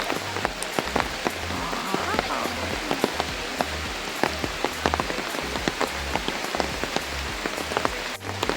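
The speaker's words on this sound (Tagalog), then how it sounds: "Sarap maligo sa ulan talaga." Steady, close rain pelts surfaces in an eco park, a dense patter of drops with sharper splashes throughout, loud and continuous.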